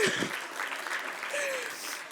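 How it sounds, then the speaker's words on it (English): Rapturous audience applause fills a speaking competition hall at the ESU IPSC 2025 final, a dense steady wash of many clapping hands sustained throughout, with a brief voice or cheer rising over it near the start. "Rapturous applause"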